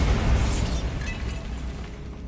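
Bombarda spell blast in Hogwarts Legacy: a heavy explosive boom opening loud with deep rumble, then crackling debris and a decaying roar fading out over two seconds.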